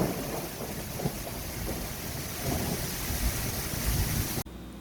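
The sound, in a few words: thunderstorm with rain and wind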